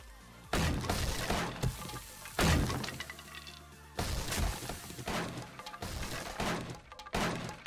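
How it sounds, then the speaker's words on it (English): A shed being wrecked in the video game 7 Days to Die, with loud, repeated crashing and splintering impacts in close bursts, separated by short gaps. "I'm gonna have to wreck this shed."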